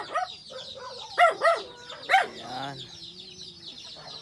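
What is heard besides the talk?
chickens clucking, native hen with chicks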